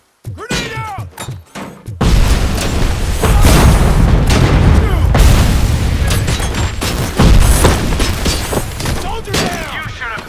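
A frag grenade explodes in the shooter RoboCop: Rogue City, with a short burst of game sounds first, then a long loud booming blast and sustained rumbling roar with crackling debris and combat noise rolling on for several seconds.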